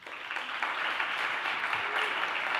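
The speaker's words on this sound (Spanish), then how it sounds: "un aplauso para Juan" A Spanish podcast audience applauds Juan from Bodegas César Príncipe, a dense, even clapping from a moderate distance that lasts throughout.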